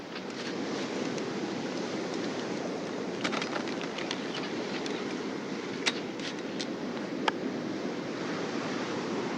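Steady ocean surf washes continuously onto a beach, a broad even roar with occasional faint bird calls and light wind buffeting on the microphone, no voices.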